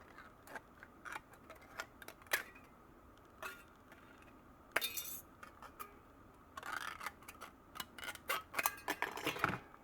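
Tin sheet being cut into two pieces with hand snips, heard as faint, scattered sharp clicks and crisp snipping bursts in a quiet room.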